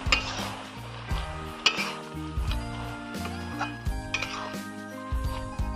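Spinach frying with salt and turmeric is stirred in a pan, steady sizzling under repeated scraping and clinking of the utensil, with a low voice and background hum.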